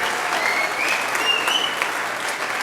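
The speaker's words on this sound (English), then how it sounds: "Let's give Miss Hawthorne and her 5th grade class a great round of applause." Loud, sustained crowd applause at an elementary school fifth grade graduation ceremony, dense clapping from a full room with a few faint whistles and voices mixed in.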